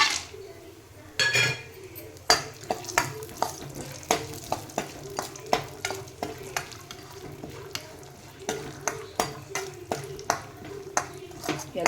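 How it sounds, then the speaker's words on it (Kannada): Cashews frying in ghee in a pan, with a soft sizzle beneath repeated sharp clicks and taps of a spoon stirring against the metal, steady and close throughout. "ಈಗ ಗೋಡಂಬಿ ಫ್ರೈ ಮಾಡ್ಕೊತೀನಿ"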